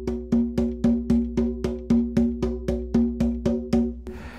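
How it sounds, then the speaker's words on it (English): A steady traditional shamanic drumming beat at four strikes per second, each hit sharp and resonant with a short ringing decay, evenly spaced and close, with no voices. "if I play a traditional shamanic drumming beat, which is 4 beats per second"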